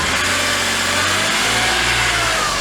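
A BMW E46 M3 engine runs steadily at 2000 RPM, a continuous mid-pitched drone with a faint rough texture and no voices.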